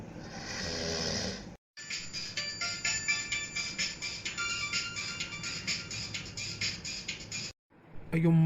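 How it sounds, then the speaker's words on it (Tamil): A mobile phone ringtone rings in the morning in a home, a loud repeating electronic melody that plays on and on with brief breaks. It is close and continuous, with no talk over it. "ஐயோ, மொபைல் அடிக்க"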